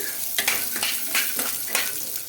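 Peanuts frying in hot oil in a pan, a close crackling sizzle with several rhythmic stirring scrapes sweeping through, no voices.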